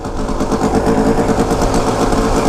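A Kawasaki KX250 dirt bike rides through mud and dirt, its engine a loud, close, continuous pulsing drone that holds steady throughout.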